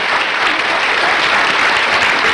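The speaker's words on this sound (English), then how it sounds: "All right, let's clap." A studio audience at a television talk show bursts into dense, sustained applause, steady and loud throughout with no voices on top.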